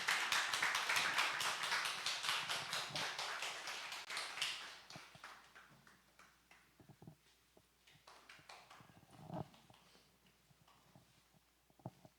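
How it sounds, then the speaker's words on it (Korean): A church congregation at a Sunday worship service applauds as a discipleship training team comes forward, with dense, loud clapping that thins into scattered individual claps and then fades out. "우리 큰 박수 부탁드립니다"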